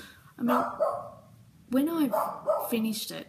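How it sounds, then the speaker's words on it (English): A dog barks indoors in several short, close bursts while a person keeps talking over it. "that's my dog barking, sorry."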